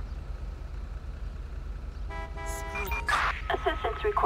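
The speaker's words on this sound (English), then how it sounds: "That's why he's beeping his horn." Car horn honking in the GTA5 video game during a police patrol scene, several loud beeps in short bursts after a quiet stretch, with engine noise underneath.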